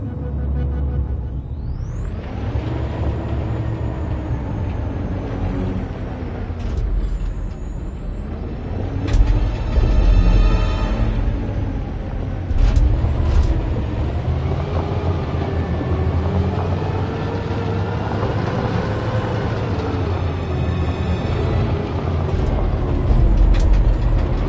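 A truck in a PS4 video game rumbles with a sustained engine drone that rises and dips, broken by hissing air-brake bursts and mechanical clanks, loud and continuous for the whole stretch.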